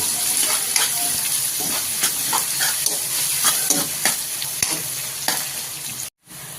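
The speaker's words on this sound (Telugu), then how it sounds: "ఉల్లిపాయలు బ్రౌన్ కలర్ వచ్చేంత వరకు బాగా వేపుకోండి" Onions frying in a pan until browned for a spicy country-chicken masala curry, a steady close sizzle with repeated scraping stirs of a spoon through the whole stretch, cutting off briefly near the end.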